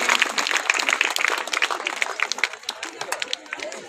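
An audience at the inauguration of a rural development scheme office in Bundi applauds, a dense, sustained clatter of many hands that thins toward the end, with voices and crowd noise mixed in.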